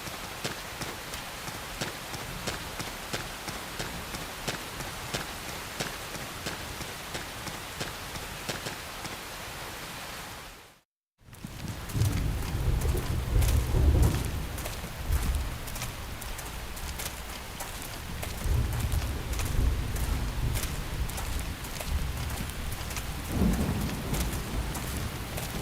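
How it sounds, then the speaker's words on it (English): Steady rain pours in a video game thunderstorm in Xenoblade Chronicles X, then after a brief break, heavy low thunder rumbles roll in beneath the continuous downpour. "The rain's starting to let up, just in time for sunrise"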